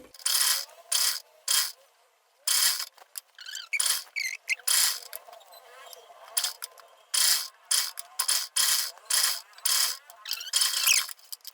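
Sewing machine stitching the folded hem of a short kurti: repeated bursts of rapid, close mechanical clattering, each lasting a second or so, separated by brief pauses and fabric handling, with no talk.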